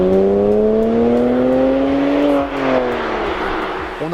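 BMW 1M Coupé with a big turbocharged engine in a small car, revving steadily while driving, its tone climbing then dropping back as the load eases, loud and close.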